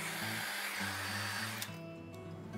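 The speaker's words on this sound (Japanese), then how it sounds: "ドライヤーの風を中に入れていきます。" A hair dryer blows air into hair that is wound on magic curlers, giving a steady motor whir and rush of air that shifts pitch partway through as the dryer moves. It is fairly faint and no one speaks.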